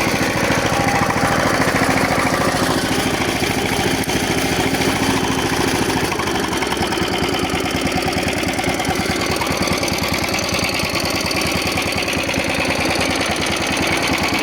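A gas-generator hybrid walk-behind tractor engine runs loud and close, a steady rapid chugging drone that stays continuous throughout with a slight change in tone midway, no voices.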